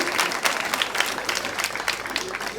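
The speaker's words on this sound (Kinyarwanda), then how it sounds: "Ako ko numva mutabaha amashyi menshi kandi barayakwiye pe." Guests applaud fourteen couples at a civil wedding ceremony in Rwanda, with dense clapping from a crowd that rises and falls close by.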